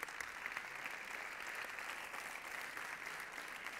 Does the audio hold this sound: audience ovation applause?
yes